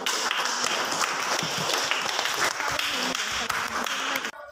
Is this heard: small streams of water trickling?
no